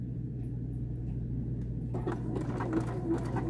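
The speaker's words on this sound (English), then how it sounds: "I'm just stitching right on top of that straight stitch" Sewing machine stitching a dog bandana, a steady low motor hum that breaks into a fast, rhythmic mechanical chatter of needle strokes partway through, close and clear with no talk.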